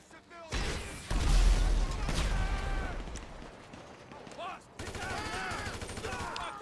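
Gunfire in the video game Grand Theft Auto Online, including shotgun blasts, comes as loud overlapping bursts and booms, with a brief lull near the middle before firing resumes, while a person talks over it.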